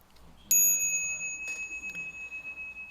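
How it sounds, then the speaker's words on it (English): A bright bell strikes once and rings on with a long, pulsing resonance that slowly fades. "Bell sound wide resounds throughout 100 million worlds"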